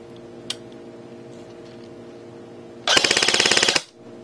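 A Classic Army Krebs KC-89 airsoft rifle fires a single burst on full auto, a rapid close run of mechanical cracks lasting about a second, following a faint click and quiet surroundings.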